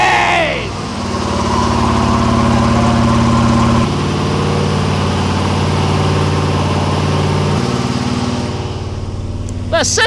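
A Chevy Chevelle engine runs in second gear with a steady, mid-level drone that holds even for most of the stretch, with a brief shift in tone partway through and a short clatter at the start and end.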